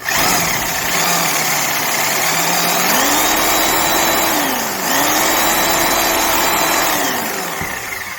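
A Porter Cable 9748 orbital reciprocating saw with an 11.5 amp motor runs steadily on its own, a loud continuous whine that dips briefly in speed partway through before climbing back up.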